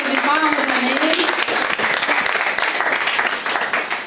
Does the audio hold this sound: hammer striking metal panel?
no